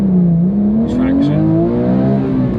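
A stock-exhaust Porsche 911 GT3 (997.2) launches toward 60 mph, its engine note climbing steadily through the revs as a loud, close cabin howl, with a brief spoken word near the start.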